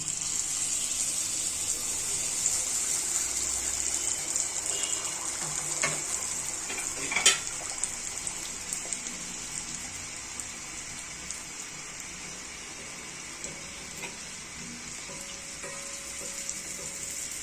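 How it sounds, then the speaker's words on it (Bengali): Pitha batter fries in hot oil for Bangladeshi teler pitha, a steady soft sizzle and bubbling hiss running throughout with a few brief clicks midway, close and moderately loud, no talking. "দ্বিতীয় পিঠাটাও আমি তেলে দিয়ে দিচ্ছি।"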